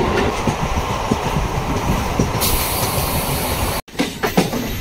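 A passenger train crosses a river bridge past Madhupur on the way to Jasidih Junction, giving a steady, loud rumble of wagons with faint rhythmic clatter and hiss and a brief dropout near the end.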